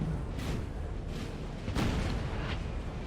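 Musket volleys and artillery fire rumble in Napoleon: Total War, several distant booming bursts rising out of a constant low battle din.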